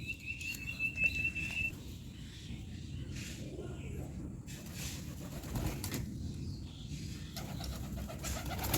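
Low, soft pigeon coos murmur close by while a person talks quietly over them, with light scuffling in the background.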